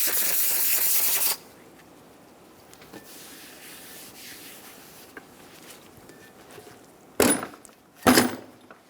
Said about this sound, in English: Using some brake parts cleaner and a clean rag, we're going to spray our drum and clean all of the oil off